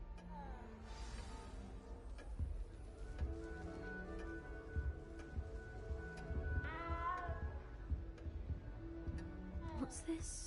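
A cat in the Hogwarts Legacy video game gives several meows heard over soft background music and game ambience, with some talking in between.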